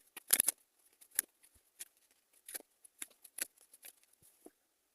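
Tarot cards being shuffled and handled, giving a run of soft, crisp riffling and flicking bursts, loudest near the start and then scattered, quieter card slaps and rustles close by, with no talking.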